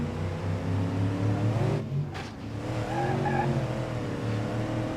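A car driven in the BeamNG Drive video game holds a steady engine drone, cuts out briefly, then comes back with rising revs and a faint tire squeal, loud and close throughout.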